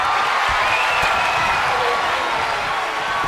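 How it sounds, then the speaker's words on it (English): A video game crowd in WWE 2K23 during a women's Royal Rumble match roars and applauds steadily, a dense wash of cheering and clapping that sounds like a large arena. "Listen to this crowd count the next one in."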